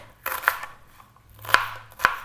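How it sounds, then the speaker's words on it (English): A knife chopping a large onion into small cubes on a cutting board, several distinct crisp strikes spaced unevenly, close and clear with no talking. "So we're just chopping the onion in small cubes."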